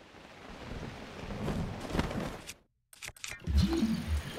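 A thunderstorm in the video game The Legend of Zelda: Breath of the Wild, with steady hissing rain and rolling thunder, a brief silent gap, then rain resuming under a low rumble.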